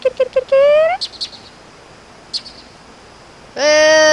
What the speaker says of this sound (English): And there's the bird.